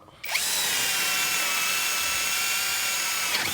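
A MASARU MSR-CD204 cordless drill spins up abruptly at speed setting two and whines steadily at high pitch while boring, loud and close, then slows slightly at the end.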